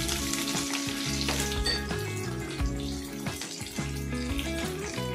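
Green chillies and curry leaves frying in hot oil, with a loud, steady sizzle and crackle broken by sharp spattering pops, close by.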